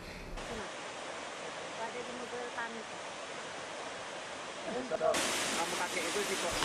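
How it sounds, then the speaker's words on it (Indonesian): Constant roar of falling water at the Curug Kembar twin waterfall in the hills near Pagaralam, a steady broadband rush with a brighter, louder surge near the end. "pesona air terjun Curug Kembar yang masih asri dan alami"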